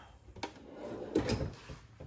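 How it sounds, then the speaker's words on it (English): A metal toolbox drawer from Harbor Freight slides and thumps shut nearby, with a soft rolling rumble and a couple of light clicks around it. "I'm gonna add to this drawer."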